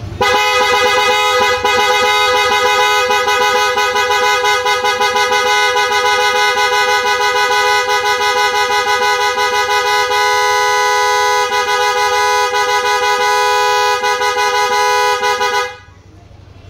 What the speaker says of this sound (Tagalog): Use natin to para mag-activate yung ating loud horn.